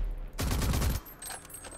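A short, loud burst of rapid gunfire in Rage 2 lasts about half a second and then drops away to quieter game sound.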